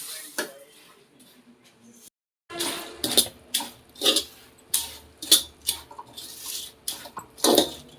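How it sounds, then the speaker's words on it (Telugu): Puffed rice stirred into thick jaggery syrup in a pan, with a rhythmic series of scraping, rustling strokes after a brief pause, close and fairly loud, and no voices. "ఇప్పుడు కలుపుకోవాలి, మంచిగా కలుపుకోవాలి. కొన్ని కొన్ని వేసుకుంటూ కలుపుకోవాలి."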